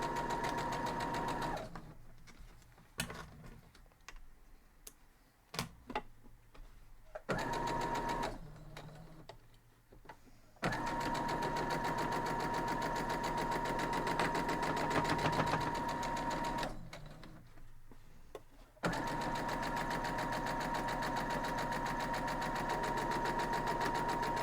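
Sewing machine stitching a quilt block, running in steady bursts with brief pauses between seams, close and continuous, alone without talk.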